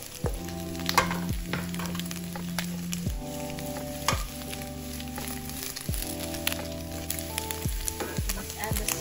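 Beef for Mongolian beef frying in a pan and being mixed, a close crackling sizzle with repeated scraping stirs and small clinks, and a low tonal hum underneath.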